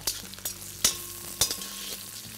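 Green chilies, peanuts and curry leaves sizzle steadily in a hot pan, close and clear. Several sharp stirring scrapes and clatters cut through the frying.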